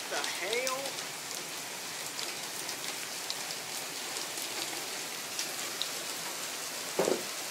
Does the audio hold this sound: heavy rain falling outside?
yes